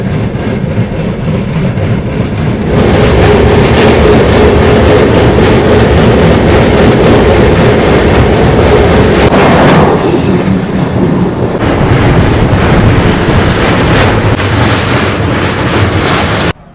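The 13173 Kanchanjungha Express runs through hill country toward a tunnel, a loud, steady rumble of wheels and carriages heard from on board, with rhythmic clatter and a brief shift in tone partway through.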